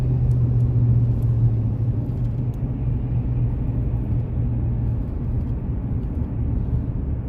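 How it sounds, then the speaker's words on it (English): Steady low rumble of a car driving in heavy highway traffic, a continuous close road drone with engine hum and no voices. "Oh my gosh, this traffic is something."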